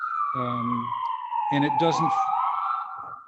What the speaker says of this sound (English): you can hear the ambulances and fire engines going by